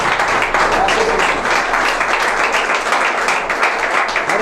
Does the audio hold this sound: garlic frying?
no